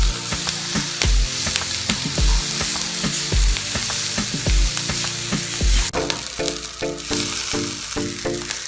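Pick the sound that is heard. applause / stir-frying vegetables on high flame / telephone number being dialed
stir-frying vegetables on high flame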